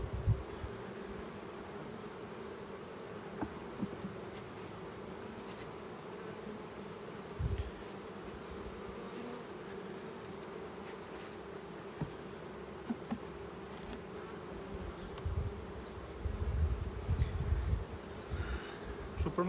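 Dense, steady buzzing of many honeybees flying between hives split apart in an apiary, a constant swarm drone with occasional closer fly-bys and faint knocks.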